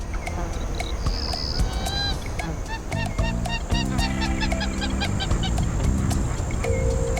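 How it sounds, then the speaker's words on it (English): A pair of wattled cranes at a pond give loud, repeated honking calls close by, the sequence of calls continuing steadily throughout. "This pair of wattle cranes were interesting visitors to this pond."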